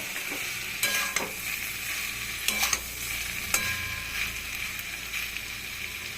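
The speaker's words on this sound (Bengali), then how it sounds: "এই অবস্থায় আমি মাছ আর বেগুনটা দিয়ে দিব। দিয়ে আলতো হাতে একটু নাড়ব।" Fish and eggplant sizzling in a pan with onion and tomato, stirred gently, giving a steady close fry with a few scraping strokes of the spoon.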